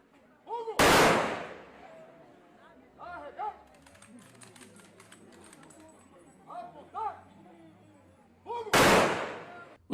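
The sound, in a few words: gun salute volley of shots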